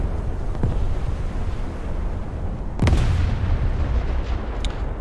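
Naval gunfire in a warship battle video game while grinding the Kongo: a deep, booming shot lands near the three-second mark with a rumbling tail, plus a fainter thump earlier, over steady low background noise.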